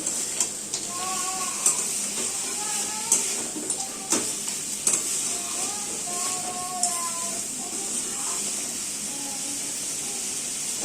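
Crabs sizzle and fry in hot spiced oil, a steady loud hiss with crackling pops and occasional stirring clatter throughout, no voices.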